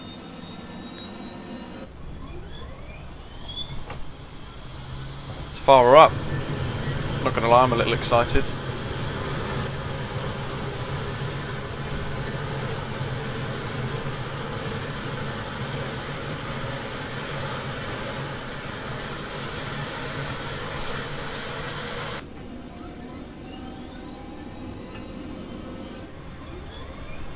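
A helicopter engine spools up in Microsoft Flight Simulator 2020, its whine climbing in pitch to a loud, steady turbine drone that cuts off abruptly near the end, while someone talks over it.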